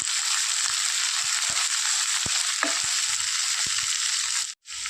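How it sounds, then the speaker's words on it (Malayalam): Ginger, together with chillies and other aromatics, is stir-fried in a pan for a Kerala-style corn uppumavu, a steady bright sizzle broken by occasional clicks and scrapes of a stirring spoon, briefly dropping out near the end. "ഇതിലേക്ക് ചേർത്ത് നന്നായിട്ട് ഇങ്ങനെയൊന്ന് വഴന്ന് വരുന്നവരെ നമുക്ക് ഇളക്കിക്കൊടുക്കാം"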